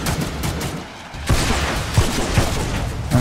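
Gunfire in the video game The Mean Greens: a dense stretch of rapid game shots and bursts, loud and continuous, with a few stronger thumps standing out.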